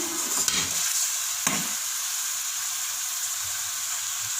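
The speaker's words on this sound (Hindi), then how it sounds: "ये अच्छे से भून रहा है।" Mutton keema and potatoes fry in ghee with a steady, bright hiss and crackle, broken by two scraping stirs of a spoon through the pan, close and continuous without talk.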